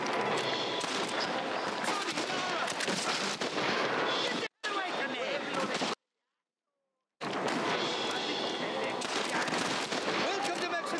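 Dense, continuous machine-gun fire in the Red Dead Redemption video game, loud and rapid, broken by a short dropout and then a longer stretch of silence before the gunfire resumes.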